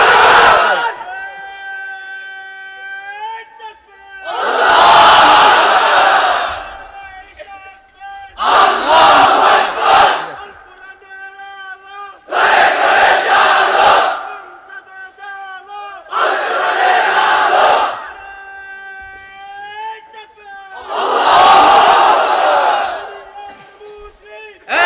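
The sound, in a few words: crowd chanting takbir at Islamic sermon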